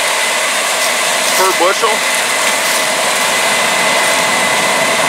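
The engine of a Case IH 9240 combine harvester, a 550-horsepower machine with a power bulge to 625, runs loud and steady during corn harvest, a constant droning roar with a brief voice speaking over it.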